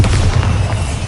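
A Bombarda explosion spell from the game Hogwarts Legacy booms loud and close, a dense low rumbling burst that sustains briefly without any talking.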